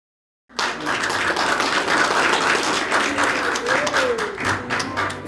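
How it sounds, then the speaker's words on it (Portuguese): A crowd breaks into sudden applause after a moment of silence, dense clapping that stays loud and steady, with a few voices faintly mixed in. "Daí eles aplaudiram"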